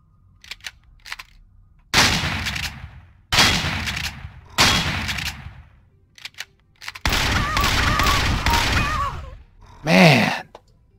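Gunfire in the sci-fi survival game Empyrion Galactic Survival: several loud, sharp blasts with echoing decay, followed by a sustained burst of rapid fire. Quieter clicks come between the shots, and a short vocal groan is heard near the end.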